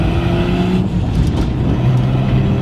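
A Nissan Skyline R32 engine runs loud and close, a continuous deep drone with a steady low hum and a slight rise in pitch.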